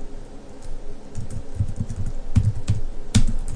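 Someone types on a computer keyboard while entering an email address, producing steady close key clicks with a few louder strikes over faint room hum.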